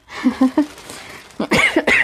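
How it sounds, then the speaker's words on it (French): A person coughs a few short times, then lets out a couple of harsher, throaty coughs close by. "je dis des bêtises et du coup je tousse"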